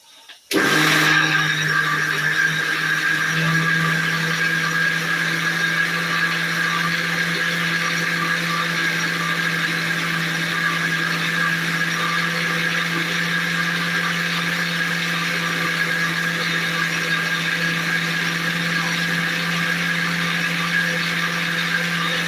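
A mixer grinder switches on and whirs loudly and steadily for a long stretch, grinding batter without pause.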